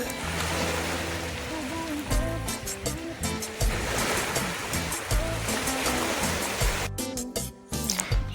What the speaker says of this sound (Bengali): এই রাতে সমুদ্রে ব্যাপক ঢেউ দিচ্ছে